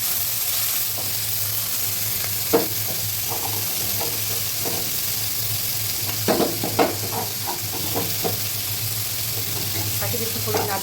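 Chunks of potato sauté in a pan with a pinch of turmeric, a constant close sizzle under a low hum, punctuated by scattered spatula scrapes and taps against the pan.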